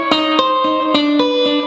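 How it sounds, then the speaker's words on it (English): A short blues turnaround on guitar: distinct plucked notes, about six in a steady rhythm, with a ringing, slightly effected tone. "That's probably the most common turnaround sound that you hear."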